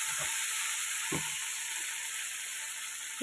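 Okra and slit green chillies frying in a pan give a steady, even sizzle throughout, with a few soft stirring knocks near the start; no one speaks.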